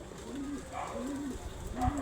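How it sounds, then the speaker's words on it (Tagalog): A pigeon coos in a few low, rolling calls, close by over a steady outdoor background hiss. "Bibigyan ko ng kalapate."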